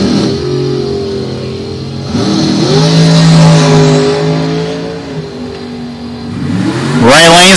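At a bracket drag racing event, a Mustang and a dragster roar down the strip, their engines climbing loudly in pitch through several rising sweeps with no talk.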